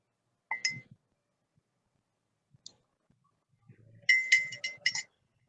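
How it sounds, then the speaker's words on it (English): A tea bag stirred in a cup gives a few faint, sparse clinks and taps, with a short cluster of sharper clicks near the end, all against a quiet background. "Stir with tea bag in the cup."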